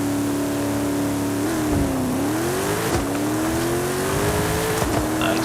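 A Chevrolet K10 in Forza Horizon 5, set up for a quarter-mile drag launch, holds a steady high rev and then climbs and dips through gear changes, loud and close with a few sharp pops.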